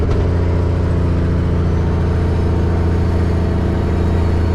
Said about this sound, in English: Pay attention to my speed and the sound of this motor.